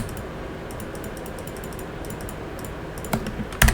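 Rapid clicking and tapping from a computer mouse and keyboard while selecting geometry, steady light clicks throughout with a few louder clacks near the end.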